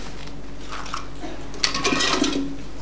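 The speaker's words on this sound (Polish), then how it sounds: "Bąbelki lecą." Bubbles rise and fizz after a small amount of a substance is dropped into a laboratory beaker of water, a short quiet lull followed by a burst of busy bubbling and fizzing at close range.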